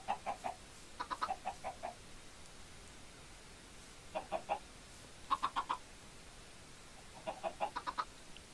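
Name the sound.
chickens clucking in a Minecraft farm, video game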